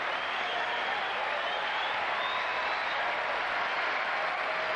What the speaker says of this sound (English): Crowd urging Clijsters on.